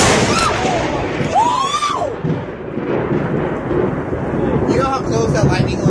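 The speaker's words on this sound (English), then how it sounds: "You know how close that lightning was?" Thunder from a close lightning strike rumbles loudly through a stormy outdoor scene, a sustained broad roar with crackling over several seconds, joined by a brief whistling, excited voice.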